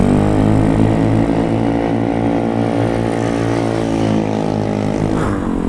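A 150cc GY6 Honda Ruckus scooter engine rumbles loudly and continuously close by, its exhaust burbling with a throaty, rising and falling drone.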